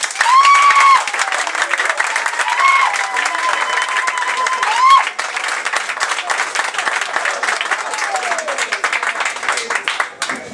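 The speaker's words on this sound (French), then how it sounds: "Nous allons l'applaudir" Applause from a gathering of young people in the Mbota Roc neighborhood of Pointe-Noire, Congo, steady crowd clapping under a whistling tone and faint voices, fairly loud and continuous.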